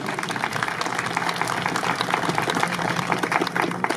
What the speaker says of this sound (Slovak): potlesk veľký